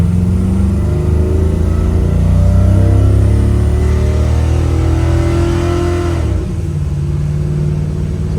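A truck engine with a transmission that won't shift into second gear revs up loudly and close, its pitch climbing steadily for several seconds before it drops sharply, then holds a lower steady drone, with no talking.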